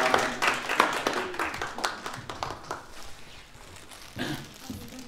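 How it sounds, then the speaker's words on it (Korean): Applause at the 2020 Korean Public PR Awards ceremony: crisp individual claps from a modest crowd, strongest at first and then thinning and fading, with a brief voice near the end. "많은 박수 부탁드리겠습니다."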